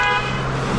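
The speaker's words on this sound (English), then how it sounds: "They're honking at me because I'm in the turn lane" A car horn honks at a cyclist riding a road near Lake Norman in Cornelius, North Carolina, heard as one short, loud, steady toot over road noise.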